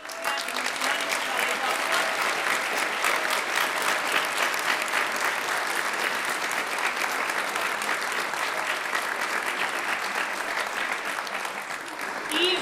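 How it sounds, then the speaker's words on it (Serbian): Sustained applause from a large audience, a steady, dense wash of clapping that holds at an even level throughout. "Molim vas jedan veliki aplauz za Leilu Vujović"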